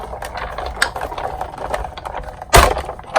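A die-cutting machine cranks a 3D embossing folder through its rollers with one cutting pad, giving a close, steady ratcheting clatter of gears and a louder clunk near the end.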